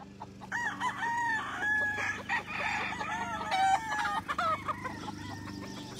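Kelso gamefowl roosters crow repeatedly on a big farm in Magdalena, Laguna, Philippines, with several overlapping cock-a-doodle-doos and clucks at moderate distance amid outdoor background.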